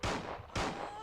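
Two loud gunshots fired in Resident Evil 2, each a sharp broadband blast with a ringing tail, about half a second apart and close up.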